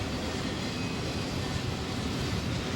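Union Pacific freight train carrying mail and packages rumbles past, a dense, steady low roar with broadband rolling noise and no voices, loud and close throughout.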